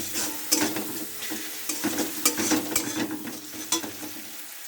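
Fish pieces frying in a pan as turmeric powder is stirred in, a close sizzle broken by repeated scraping stirs in an uneven rhythm, with no talking.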